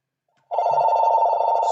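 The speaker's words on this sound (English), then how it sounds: "And I apologize that the phone's ringing." A telephone bell rings in a single continuous trill, loud and close, starting abruptly after a short silence.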